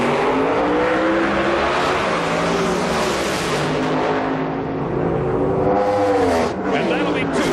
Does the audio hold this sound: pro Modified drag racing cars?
yes